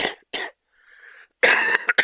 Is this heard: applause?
no